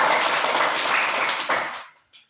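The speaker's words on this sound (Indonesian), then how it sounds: "Kita tepuk tangan." A primary school class claps hands together in a dense burst of applause lasting under two seconds, then stops abruptly.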